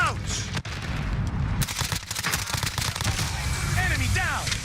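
Gunfire and a frag grenade blast ring out in a Call of Duty Warzone match: a sharp close crack is followed by a dense run of rapid shots and booms, with voices talking over the action.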